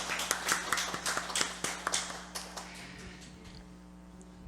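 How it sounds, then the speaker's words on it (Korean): Church congregation at a Sunday service clapping, a brief round of separate, fairly close hand claps that thin out and fade over a few seconds against a low steady hum. "함께 박수 드리도록 하겠습니다."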